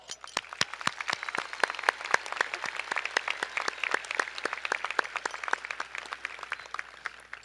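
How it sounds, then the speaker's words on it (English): Audience applause at a high school graduation ceremony, heard as a scattered run of distinct, fairly sharp handclaps at moderate distance, continuing steadily without talk. "Let's give them a round of applause."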